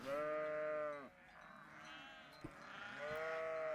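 Sheep bleating in the video game Trails of Cold Steel, two long wavering bleats, the first at the start and the second near the end, with a quiet gap between them and a brief click.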